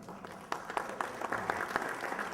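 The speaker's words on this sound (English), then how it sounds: "I don't know why you're clapping" Audience applause at a Civil War roundtable talk, a moderate spread of clapping from a room of listeners with a few sharper claps standing out, steady for a couple of seconds and no voices over it.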